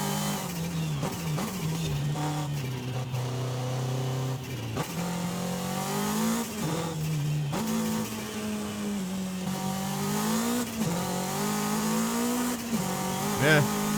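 A mid-engined Toyota MR2 in the Forza Horizon 5 racing game revs hard through repeated upshifts, its engine note climbing and dropping, with a brief tire squeal near the end, loud and close throughout.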